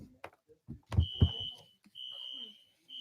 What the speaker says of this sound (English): Okay, we have a fire alarm.